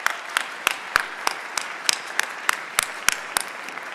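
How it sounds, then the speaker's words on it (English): Sparse, evenly spaced handclaps from a small audience at a school band Christmas concert, about a dozen crisp claps in steady rhythm, fairly faint and with no talking. "So just a round of applause for being in here."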